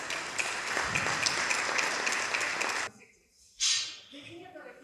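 Audience applause at a forum interview event in Spain, a loud broad burst of crowd clapping lasting nearly three seconds before cutting off, followed by a brief pause and a short voice.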